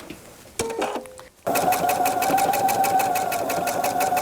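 A sewing machine stitches a pocket seam along a welt at a quarter-inch allowance, running in a steady, rapid mechanical chatter at close range after a brief start and pause.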